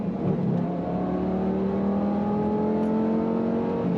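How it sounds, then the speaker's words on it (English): A first-generation Lamborghini Gallardo downshifts and accelerates on a highway, its engine note climbing steadily in pitch as it pulls hard, heard from inside the car at a moderate, constant level without speech. "So you downshift"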